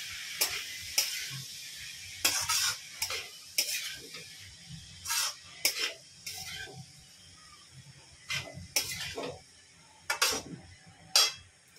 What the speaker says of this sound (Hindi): तो देखिए हम गाजर को थोड़ी देर तक भूनेंगे सॉफ्ट होने तक